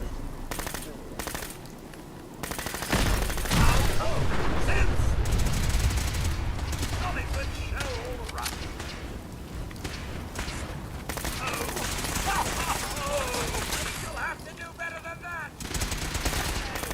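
Incendiary 10mm pistol gunfire in Fallout 4, a loud, dense run of rapid shots with crackling bursts that lasts most of the stretch, over game background noise and some voice.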